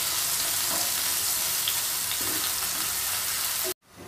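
Onion fries in oil in a pan until light brown, a loud, continuous close-up sizzle with faint stirring scrapes, ending abruptly.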